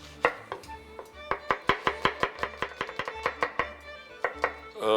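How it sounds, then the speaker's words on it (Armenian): Onions being chopped on a board in a kitchen, a rapid run of about twenty sharp knife taps in an uneven rhythm, close and clear with no talking. "Առատ սոխ պիտի կտրատենք։"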